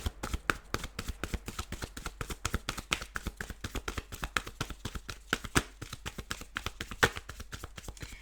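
Rapid, crisp flicking and riffling of a deck of cards, a dense rhythmic flutter that continues steadily close up.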